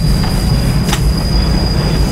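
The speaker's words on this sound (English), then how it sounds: "when the train starts making noises like that, that means some plot thing is about to happen" Train wheels squealing in the 1997 PC adventure game The Last Express, a steady loud rumble of the rolling train with a thin sustained metallic whine throughout and a brief brighter screech near the start, no voices.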